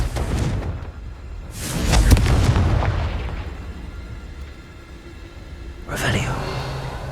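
In Hogwarts Legacy, the Confringo blasting spell sets off booming explosions: one big blast with a rumbling tail in the middle, then a sharper burst near the end, over constant game ambience.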